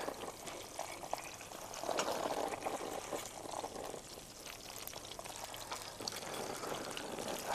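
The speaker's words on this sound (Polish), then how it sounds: "Do potrawy wlewam teraz nieco borock palinka, czyli destylatu morelowego." Apricot palinka brandy is poured into a simmering chicken dish, giving a steady, moderately loud liquid splash and gurgle over a bubbling background that lasts throughout, with no talking.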